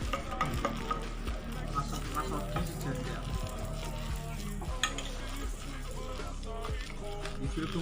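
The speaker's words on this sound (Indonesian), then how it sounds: "Setelah itu kita aduk sampai rata." Stirring a boiled coconut-milk ice cream mixture after adding sugar in a pot, a steady scraping and swishing with light sizzling and clinks running continuously under a person talking.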